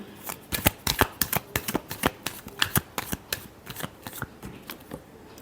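Tarot cards being shuffled in a quick run of sharp riffling snaps and flicks, close and fairly loud, with no voices.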